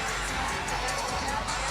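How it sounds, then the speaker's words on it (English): Basketball arena crowd at Xfinity Center in College Park during an NCAA women's second-round game between Alabama and Maryland, reacting to a disputed call: a steady wash of booing and shouting voices filling the hall. "Well, the crowd certainly has their opinion here in College Park."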